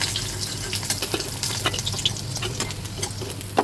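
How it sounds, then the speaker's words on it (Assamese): Fish fries in hot oil in a pan, giving a steady broadband sizzle with small crackling pops throughout and no voices. "উলিটি চিলুটি কৰি ভালদৰে ফ্ৰাই কৰি ল'লোঁ।"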